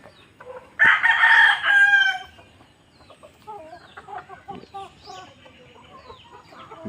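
Gamecock roosters crowing at TR Game Farms, a backyard fighting-cock farm set among tall forest trees: one loud, close crow rings out near the start, followed by quieter clucks and distant crows from other birds.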